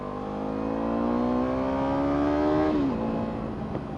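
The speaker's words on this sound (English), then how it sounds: "Oh, you hear that exhaust?" Yamaha R3 motorcycle fitted with an Akrapovic exhaust, revved up close with a loud, rising engine tone that climbs steadily, then drops sharply as the throttle is released.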